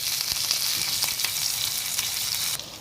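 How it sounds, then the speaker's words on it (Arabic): Potatoes fry in hot oil as part of a home-cooked mandi duck meal, giving a steady, close, even sizzle with faint crackles and pops throughout and no talking. "وبحمر بطاطس والبطاطس بتاعته خلصت"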